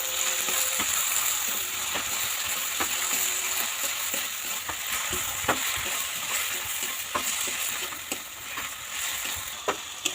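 Chopped tomatoes hit hot oil in a pan already frying ginger and garlic paste, producing a steady, dense sizzle with occasional stirring clicks and scrapes, close and continuous throughout.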